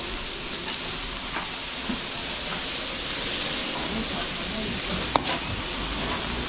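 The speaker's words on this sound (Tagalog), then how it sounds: "Ang prito ng Lumpiang Shanghai." Steady, loud sizzling of oil deep-frying Lumpiang Shanghai spring rolls fills the clip, a constant crackling hiss with a faint clink partway through.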